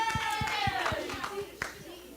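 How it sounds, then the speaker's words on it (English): Scattered hand claps from a church youth-session audience, a handful of distinct slaps in a loose rhythm, heard under talking voices and background chatter. "Clap for her."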